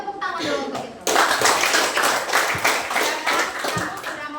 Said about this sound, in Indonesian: tepuk tangan dulu untuk itu